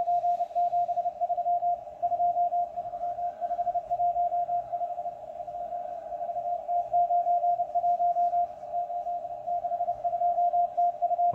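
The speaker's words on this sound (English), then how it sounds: "the Russian number station in Morse code being received using an MLA-30 outdoor with the Sdrplay multicoupler" Shortwave Morse code from the Russian M12 number station: a steady, clear sidetone beep keys out continuous dots and dashes in an even rhythm over faint background hiss, with no speech.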